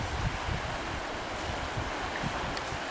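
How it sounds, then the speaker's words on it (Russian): Storm waves churn on open water under strong, unrelenting wind, a steady dense roar with low rolling surges and wind buffeting the microphone, no talk. "вон какая волна."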